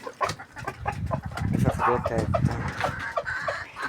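Backyard chickens cluck in a coop, with repeated short calls of moderate loudness over a steady background.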